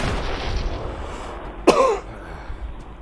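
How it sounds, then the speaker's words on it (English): A single short cough bursts out against a steady low background hum, followed by a brief trailing rasp. "That was a nothing cough."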